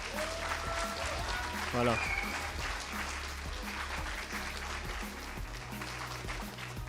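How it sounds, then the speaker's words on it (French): Audience at an esports viewing party clapping steadily for the casters, with a voice speaking briefly over the applause. "Est-ce qu'on peut applaudir les casteurs quand même d'avoir tenu toute cette soirée, s'il vous plaît?"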